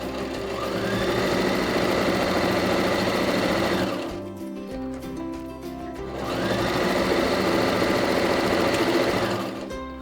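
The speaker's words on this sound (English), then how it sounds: "I stop, I do a few backwards, and I leave my gap, and then I start stitching again." A sewing machine stitches a reversible tote bag in two steady, loud whirring runs, separated by a short pause midway, close up with no talking.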